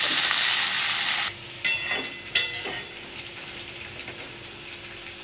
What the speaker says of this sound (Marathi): आता याच्यामध्ये टाकून छानपैकी असं तळून घेणार आहे मी इथे.